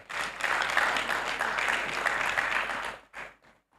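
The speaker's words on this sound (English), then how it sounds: "So can we give a round of applause for ourselves?" Audience applause at a professional development programme, a dense, steady wash of clapping for about three seconds that tapers off, with a few trailing claps at the end.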